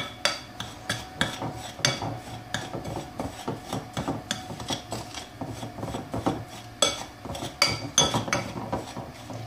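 A spoon stirs melted butter into a thick mixture in a bowl, producing a quick, steady rhythm of scraping and clinking strokes, close and fairly quiet.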